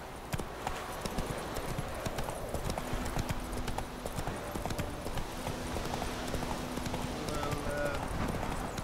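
Roach, the horse in The Witcher 3: Wild Hunt, walks with steady rhythmic clip-clopping hoofbeats over a dense ambient bed, with a voice talking briefly.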